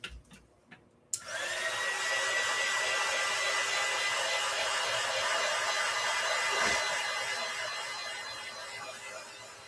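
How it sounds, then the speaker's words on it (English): After a few faint clicks, a hair dryer blowing on mixed-media artwork switches on abruptly and runs as a loud, steady whooshing drone, easing off slightly near the end. "I'm going to hit mine with the dryer."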